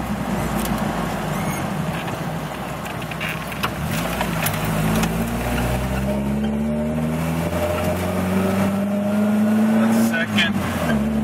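A Jeep Wrangler's 2.5-liter engine runs steadily while being worked through its 5-speed manual gearbox, engine tone rising and settling with each shift, close and loud throughout.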